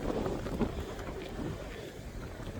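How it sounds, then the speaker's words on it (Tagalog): Strong wind buffeting outdoors during a snowstorm in North Dakota, a steady broadband roar with gusty rumble pressing close on the microphone throughout, no voices. "Tingnan yung hangin, man."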